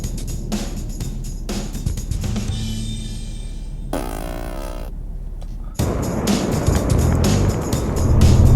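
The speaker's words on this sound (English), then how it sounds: "this M40D makes use of a 3-liter straight 6 turbo diesel with 2 sequential turbos to produce 240 kilowatts and 690 newton meters of torque" A BMW X4 M40d with a 3-liter straight-six twin-turbo diesel runs hard on a race track, its engine note loud and continuous, shifting through gears, with a brief gap before the roar swells again.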